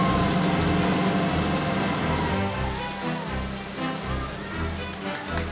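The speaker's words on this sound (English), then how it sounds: "obviously alerted by the sound of the outboard motor" A boat's outboard motor drones loudly and steadily on a river, a low continuous engine hum with slight wavering in pitch, close by, with a voice talking over it.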